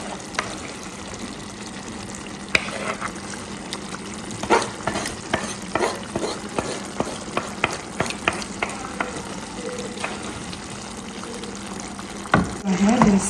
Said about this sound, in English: Ahead and stir everything in, guys.